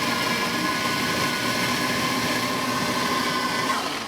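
A blender motor whirs loudly and steadily for several seconds while blending a shake, then begins to wind down at the end.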